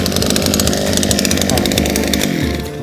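A second-hand petrol earth auger hole digger with an 8-inch soil drill bit runs loudly and steadily close by, its small two-stroke engine buzzing at high revs with a harsh rasping drone.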